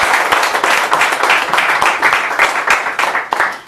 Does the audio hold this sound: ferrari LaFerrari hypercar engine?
no